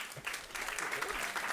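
Applause from a seated audience at a Climate Week panel on regenerative food systems, steady and fairly dense, filling the whole moment at moderate distance with no voices over it.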